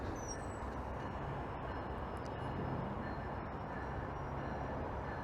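A westbound commuter train on the Lakeshore line at a station, a quiet, steady rumble and hiss of the train continuing throughout with faint high squeals.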